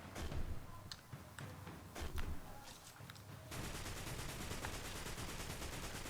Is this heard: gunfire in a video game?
yes